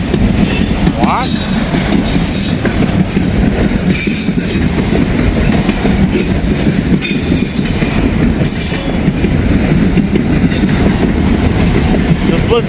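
A heritage locomotive train rolls past close by and loud, its wheels beating a continuous clickety-clack with occasional metallic squeals over a heavy rumbling drone.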